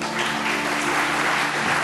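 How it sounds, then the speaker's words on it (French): Applause from a conference audience at a spectrum and innovation event in France, a dense, steady wash of many hands clapping close and loud throughout, with no voices over it. "Comme pour les autres, applaudissements s'il vous plaît."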